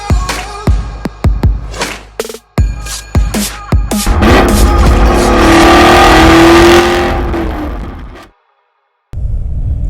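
A 2019 Audi RS3 engine revs hard and close: a string of sharp blips, then a long sustained rising roar that cuts off abruptly into silence before a low idle returns.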